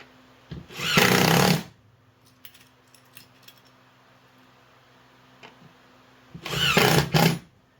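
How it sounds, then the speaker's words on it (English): A power drill bores pilot holes for large screws into a wooden RC semi travel and storage case, with two loud bursts of whirring drilling separated by a quiet stretch of faint handling clicks. "Since these are such big screws, I wanted to put pilot holes in there because it may split out."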